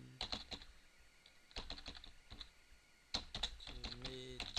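Close-up typing on a computer keyboard in short bursts of crisp key clicks separated by brief pauses, heard alone without any talking.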